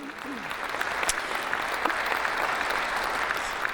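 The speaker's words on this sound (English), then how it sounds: "please join me in a round of applause for these wonderful companies" Audience applause for sponsors during a Green Builder Media live event, a full crowd clapping in a dense, sustained roar that swells slightly and holds steady, with a few sharper claps standing out.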